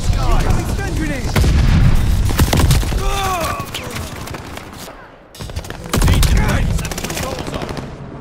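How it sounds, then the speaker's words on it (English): Stun grenades and gunfire in COD Vanguard multiplayer: loud bursts of automatic fire and booming blasts crowd together, with a brief lull before another heavy volley, while a radio-style voice announces over the action. "Incoming stun grenades."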